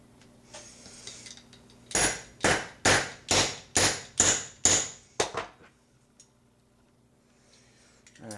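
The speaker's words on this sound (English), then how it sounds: "Alright, now we've got it into our hammer, got it started, I can drive it on through." About eight sharp metallic hammer blows ring out in an even rhythm, driving a part into the hammer of a Stevens 107B/94H shotgun receiver, close and loud, followed by a couple of lighter taps and quiet.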